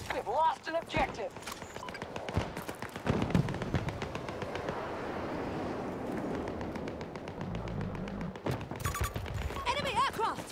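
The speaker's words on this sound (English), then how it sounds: "Grenade is out!" Battlefield 2042 Conquest battle on the Hourglass map: rapid bursts of gunfire and sharp explosive blasts crackle repeatedly, loud and dense, with a rumbling detonation mid-way and game voices over the combat.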